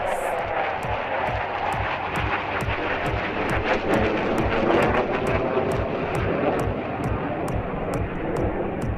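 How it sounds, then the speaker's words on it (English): An HAL Tejas light combat jet passes overhead at the Aero India 2021 air show at Yelahanka Air Force Station, Bengaluru, a loud continuous roar filling the whole stretch, with faint rhythmic clicking running underneath. "present to you the light combat aircraft"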